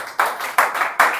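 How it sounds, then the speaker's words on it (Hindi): Three sharp bursts of hand clapping from a classroom group, each a short rattling burst spaced evenly about four tenths of a second apart, close and loud. "ताली वैसे ज्यादा वैसे ही है क्या?"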